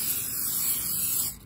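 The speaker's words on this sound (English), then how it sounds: "you're going to spray quite thoroughly all around" Hairspray from an aerosol can hisses in one continuous close burst onto a pomegranate painting, a steady spray that cuts off at the end.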